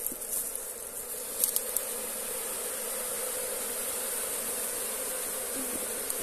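Italian honeybees buzz steadily around a log packed with capped honey in northeastern Brazil, a dense continuous drone close to the ear with a few brief sharper passes.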